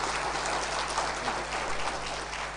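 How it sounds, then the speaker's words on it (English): An audience at a Kenyan national address applauds the Director General of the Kenya School of Government, a continuous, even rush of many hands clapping at moderate level with no talk. "Give him a round of applause"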